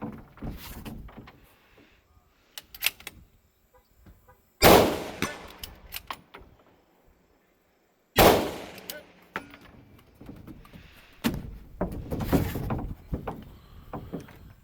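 Two loud, sharp rifle shots from a Zermatt Origin bolt action firing 140 grain Sierra ammunition at a shooting match, several seconds apart, with bolt handling and other clatter around them.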